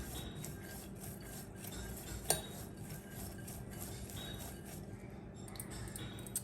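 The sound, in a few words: mixing sprouted green gram salad in a bowl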